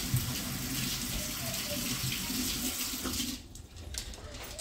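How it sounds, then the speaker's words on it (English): Tap water runs steadily into a sink as a salty hand is rinsed under it, the flow close and continuous, then thinning out near the end. "Wash the salt off my hand."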